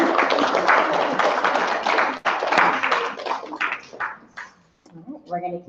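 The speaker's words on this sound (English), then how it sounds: "Let's give a round of applause for our students" An audience applauds students at a 2019 spelling bee, a dense, steady wash of clapping lasting several seconds before it thins out and a voice begins speaking.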